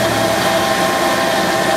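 A Wilton vertical mill spindle spinning at around 4200 RPM, a steady loud mechanical whir and hum with no pauses, close by and alone without talk.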